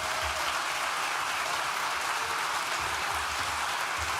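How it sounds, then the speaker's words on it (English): Graduation ceremony audience applauding in a large hall, a dense, steady wash of many hands clapping continuously at even loudness throughout. "You can clap."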